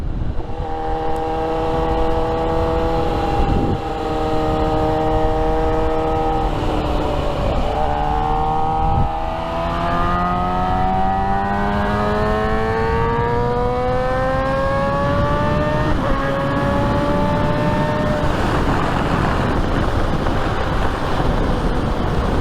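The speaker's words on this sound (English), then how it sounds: "you just downshift without the brake, and then you are automatically slowing down" A motorcycle engine on a weekend ride hums under constant wind rush, then dips at a gear change and climbs steadily in pitch over several seconds as the revs build, heard continuously and close with no talk.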